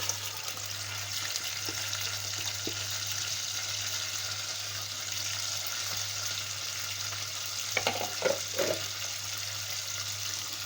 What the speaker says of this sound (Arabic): وهنشوح ده كده مع الزيت